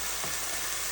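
A quesadilla sizzles in a hot pan, giving a brief, close, steady hiss of frying with no voices over it.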